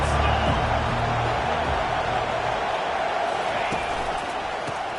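Stadium crowd at an NC State versus Coastal Carolina college football game, a steady loud roar of many voices filling the whole stretch, fading slightly toward the end.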